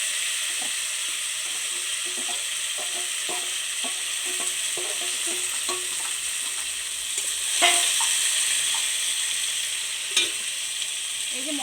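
Figs sizzle steadily in hot oil in a pan while a spatula stirs them, scraping and clicking in an uneven rhythm, with a couple of sharper clatters near the end; close and continuous, no talking.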